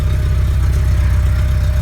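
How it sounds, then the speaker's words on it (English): Steady low, rumbling idle of a 1987 Porsche 944 engine with a loud muffler, close and continuous with an even exhaust pulse and no talk. "Oh, maybe that muffler's just really loud."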